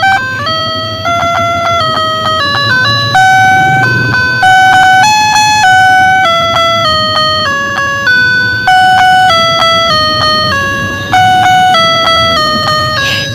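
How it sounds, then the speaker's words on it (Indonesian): A toy police patrol car plays a bright electronic siren-like jingle, a loud repeating melodic tune of beeping tones that cycles steadily from start to end with no talking. "Ini ada mobil polisi patrol ya."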